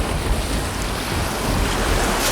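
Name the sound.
ocean waves surging sound effect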